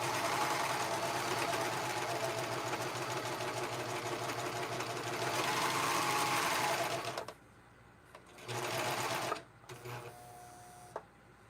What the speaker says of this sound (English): Oh, I gotta sew the crotch of the bummies.